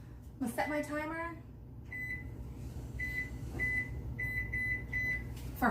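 Several short electronic beeps from an oven timer being set in a home kitchen, spaced irregularly over a few seconds after a brief spoken word, with low background hum throughout.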